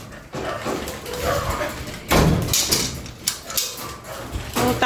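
A dog barks and whimpers close by in a home, giving a few sharp yaps and whiny sounds mixed with some household noise.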